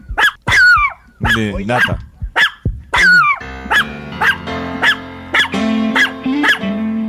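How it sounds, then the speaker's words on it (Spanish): A dog yips and barks in sharp bursts, close and loud, between shouting voices of people talking in Spanish, later settling into a rhythmic series of barks. "¿Este perro de quién es?"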